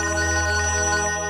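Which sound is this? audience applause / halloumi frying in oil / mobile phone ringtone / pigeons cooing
mobile phone ringtone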